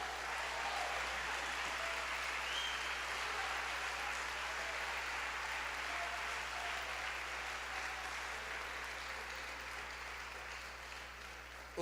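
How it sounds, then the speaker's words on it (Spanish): A church congregation at a leadership conference applauds in one dense, continuous wash of clapping that holds steady for about twelve seconds, then thins slightly toward the end, with no voices above it. "Vamos, si lo va a aplaudir, hágalo."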